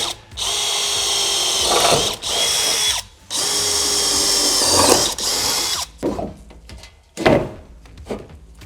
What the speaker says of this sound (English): We're going to drill these out with a 1/4-inch bit